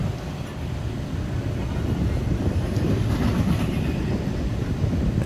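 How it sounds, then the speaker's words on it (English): A freight train hauling intermodal containers and truck trailers rolls past outdoors in sunny weather, a steady loud low rumble with faint wheel clatter that holds throughout, no voices. "panning to the left and the train going to the right"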